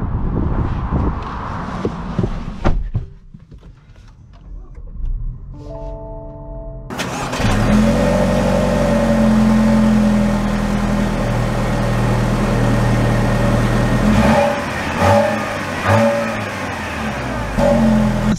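A 2022 Lexus NX 350 F Sport starts up after a quiet pause with a short whirring crank, catches with a loud rev, then settles into a steady, close idle that briefly blips again near the end.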